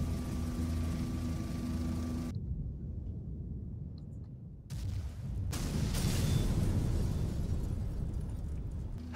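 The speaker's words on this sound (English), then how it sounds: "Did they just blow up the bridge?" A bridge blown up in a video game, with a loud explosive blast and roar that cuts to near silence, then returns as a second long rumbling burst with crackling debris.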